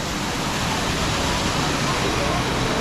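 Twin AJ Waters Falls, a waterfall bathing spot, gives a steady, loud, broadband rushing roar of falling water with no breaks, with talk faintly mixed into the noise.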